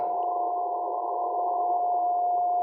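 A steady single-pitched radio tone hums continuously over a narrow band of hiss, unbroken and fairly loud, with no voices.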